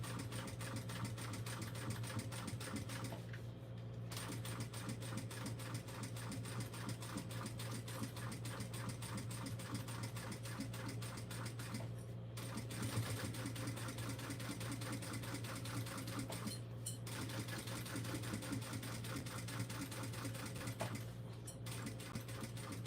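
Sewing machine running steadily while stitching doll clothes, a fast, even mechanical ticking and hum, quiet and continuous with a few brief pauses.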